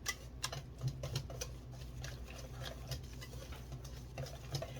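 Banana bread batter being mixed by hand in a bowl, soft irregular taps and scrapes of a spoon or spatula recurring every half second or so, quiet and close with a low room hum.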